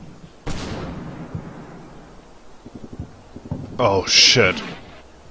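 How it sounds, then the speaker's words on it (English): Mortar rounds burst in Combat Mission Fortress Italy, a WWII game set around San Pietro: a muffled boom near the start, then a louder, sharper blast toward the end, with someone talking quietly between them and a brief exclamation. "I will bombard this whole area with mortars again"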